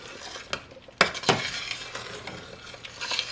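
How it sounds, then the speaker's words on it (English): Low sugar strawberry jam at a steady rolling boil is stirred in a pot on the stove, with a spoon scraping and clinking against the pan over faint bubbling and a couple of sharper knocks, close and alone. "It's boiling and boiling, and I'm stirring it, but it's steady boiling."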